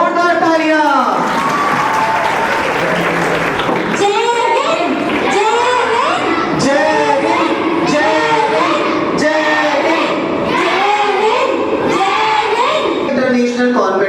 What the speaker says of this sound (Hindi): एक बार हमारे बापू के लिए जोरदार तालियां